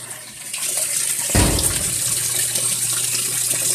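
Water pours steadily inside a Frigidaire Gallery washer during a leak test, a continuous rushing stream that swells with a heavier splash partway through, close and alone.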